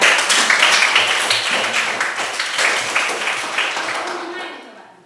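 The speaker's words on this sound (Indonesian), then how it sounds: "Tepuk tangan untuk dia." Classroom applause rises as a group claps together, dense rapid claps that stay loud for several seconds before thinning and fading out.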